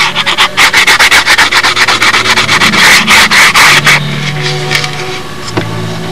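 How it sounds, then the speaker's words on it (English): Thin plywood on a model aircraft wing being sanded by hand, a rapid run of loud, close rasping strokes for about four seconds, then quieter scraping with a low hum beneath. "When I'm done sanding this"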